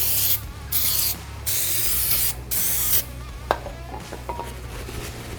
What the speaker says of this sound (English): So we're going to take a little bit of brake clean.